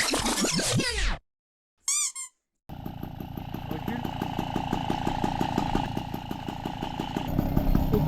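An MBK 40V moped fitted with a Cobra exhaust idles with a steady, loud, buzzing two-stroke putter after a few squeaky scrapes and a short pause.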